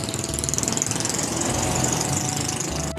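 A motorcycle engine runs with a rough, rapid pulsing chug, loud and close, steadying into a continuous throbbing idle for the whole stretch with no talking.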